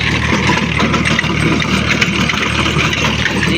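Tractor engine pulling a rotavator in first gear through deep tillage on a farm field, a steady, loud diesel drone with a low rumbling hum throughout, no speech.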